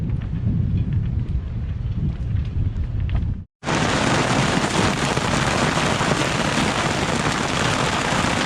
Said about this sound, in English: Getting really heavy tropical rain showers now.